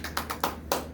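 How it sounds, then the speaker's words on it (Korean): A church congregation gives a short round of applause for the evangelist, with a handful of distinct claps and taps spaced across a single second. "우리 전도사님 박수 한번 더 보내드려요"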